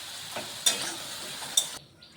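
Potato pieces fry in hot oil with a steady, bright sizzle, broken by two sharp metallic spoon taps against the pan before the sound cuts off.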